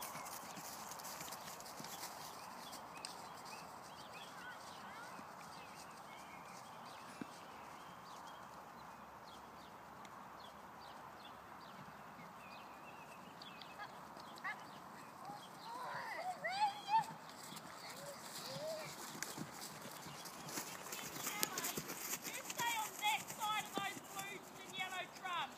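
Horse hooves trotting in a riding arena during schooling transitions, a steady soft clip-clop rhythm at moderate distance, with occasional spoken instructions over it.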